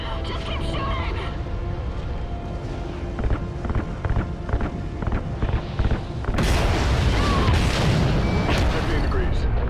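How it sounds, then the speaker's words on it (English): RCS fuel lines igniting in the Call of Duty Ghosts video game: a sustained roaring rumble with repeated booms and gunfire, swelling into a louder, denser blast partway through, with voices now and then. "Ignite those RCS fuel lines."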